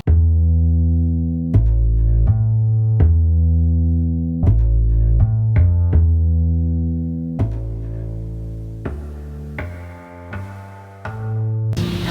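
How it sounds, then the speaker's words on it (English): A picked upright bass from the Contact sample library plays a slow jazz rap bass line, deep plucked notes with sustained low tones recurring every second or two, loud and up front with no talking. "for this I actually use the Contact upright bass, which is a really cool organic sounding instrument that just sounds like a picked upright bass"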